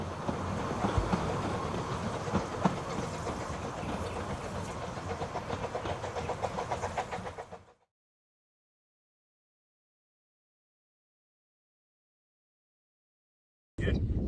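Snowdon Mountain Railway steam train climbing in Wales, a loud rumbling clatter with rhythmic chuffing for about seven seconds, then an abrupt cut to silence before a brief return at the end.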